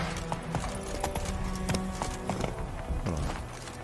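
Roach, the horse in The Witcher 3, gallops with a rapid clip-clop of hooves alongside game sounds, steady and fairly close, with a faint voice in the background.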